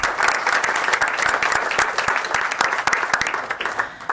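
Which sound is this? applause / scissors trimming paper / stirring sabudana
applause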